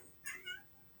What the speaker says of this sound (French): ça, c'est un chat qui vient de passer.